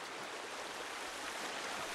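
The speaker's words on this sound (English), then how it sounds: "we're getting carried by the current anyway" River current rushing in the Sons of the Forest game, a dense steady hiss of flowing water, close and continuous with no voices.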